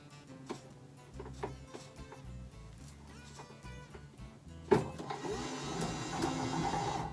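Bambu Lab P1S 3D printer feeding filament through its AMS unit, a steady mechanical whir and clicking motor drive that grows louder and denser midway, close and alone with no talk.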